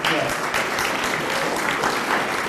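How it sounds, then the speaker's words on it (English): An audience claps and cheers for guest speaker Dr. Erik Wielenberg, a philosophy professor, at a C.S. Lewis 50th memorial event, with loud, dense clapping sustained throughout and faint voices mixed in. "You get a cheer too, Erik."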